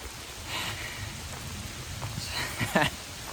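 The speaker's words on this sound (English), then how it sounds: "So yeah, it's raining." Rain from a thunderstorm falls in a soft, steady patter, with a few sharper drops and faint rustling nearby.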